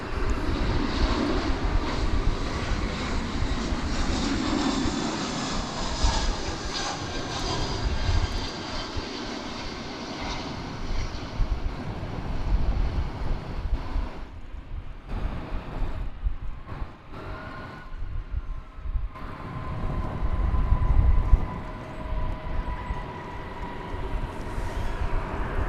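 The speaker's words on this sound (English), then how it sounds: "an incoming flight from San Diego, flight 2362, an Airbus A321. Right here on Runway DFW." An Airbus A321 arriving from San Diego rolls onto a DFW Airport runway, its engines a loud, sustained roar that swells and shifts over the whole stretch.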